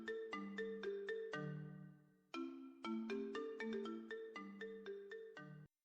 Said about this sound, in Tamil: ஸோ அந்த டைம்ல பார்த்து உங்களோட ஃபோன் வந்து ரிங் ஆகுது.